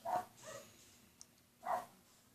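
A dog in the Survivalcraft video game barks twice, two short, fairly soft yaps about a second and a half apart, with a faint tick between them and no voices.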